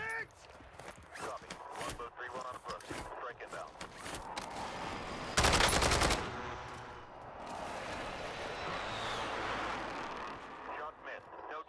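Sniper gunfire in a shooter video game: one loud, sharp crack-like burst mid-way, heard against ongoing game noise while someone talks throughout.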